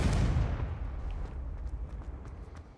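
In the Hogwarts Legacy video game, a blasting spell lands with a loud, deep burst at the start, then trails into a long rumbling decay scattered with faint crackles.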